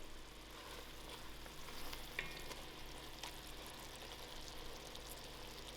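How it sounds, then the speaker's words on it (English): A pot of spicy curry for a dhal pitta bubbles and sizzles softly at a steady low level, with faint stirring clinks and no voices. "My curry has come to a nice boil."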